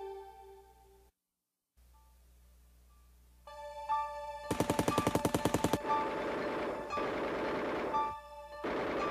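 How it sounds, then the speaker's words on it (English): Tommy gun fire from 1920s gangster violence: a rapid burst of machine-gun shots, then further dense bursts of gunfire over background music, loud and close. ".1925 echoed with gunshots."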